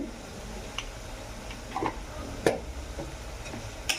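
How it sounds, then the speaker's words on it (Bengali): Chicken being sautéed in a pan with a little salt, no tomato: a low, steady sizzle under scattered sharp scrapes and clicks of a spoon stirring against the pan, close and fairly quiet, with no talking. "এবারে এটাকে একটু কষাবো"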